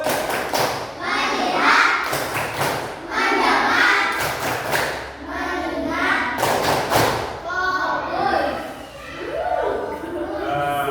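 Schoolchildren in a classroom perform a rhythmic group clap, sharp unison claps in repeated bursts interleaved with children chanting together and a teacher's voice.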